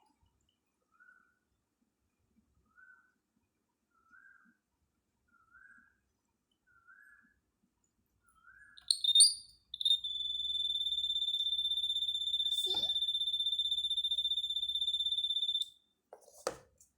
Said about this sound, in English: as it touches this top, the buzzer starts to give noise